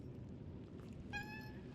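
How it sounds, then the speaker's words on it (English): A small kitten in the video game Lies of P gives one short, clear, high-pitched meow near the end, following a stretch of low background hum. "A small kitten. She's taken a shine to the bell collar."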